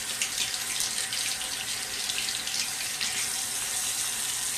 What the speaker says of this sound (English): now we're going to take that brush and rinse it